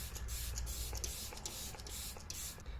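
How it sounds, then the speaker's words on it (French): Maybelline Lasting Fix setting spray hisses out in a string of short, close bursts, each a soft airy puff repeating in quick rhythm with no talking. "je vais juste mettre du spray fixateur"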